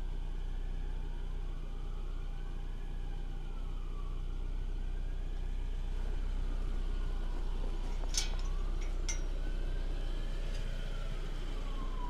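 Emergency vehicle sirens wail in rising and falling sweeps during a street chase, heard over a constant low engine hum from a nearby car, with brief sharper bursts near the end and no speech.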